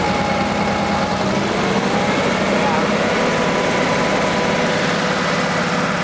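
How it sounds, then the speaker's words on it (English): Porsche 3.2 Carrera flat-six engine idling at a raised speed with its idle stop switch pulled, a steady, close mechanical hum with a rough low-end vibration and no clear change in pitch. "Alright, well our idle went really high."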